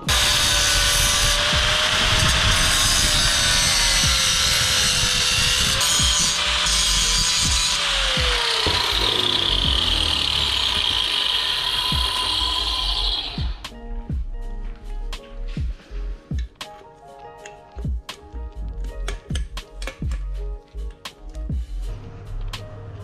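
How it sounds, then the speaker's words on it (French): Grinding tool working on engine parts of a KTM RC8 motorcycle, a loud continuous abrasive whine for about thirteen seconds that then stops, followed by scattered clicks, taps and metallic knocks. "je vais essayer avec ça là de les meuler pour qu'il passe en dessous"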